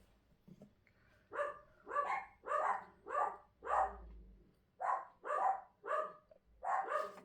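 Several dogs bark in a steady run of loud, close yips and woofs, about nine sharp barks in quick succession over a quiet indoor background.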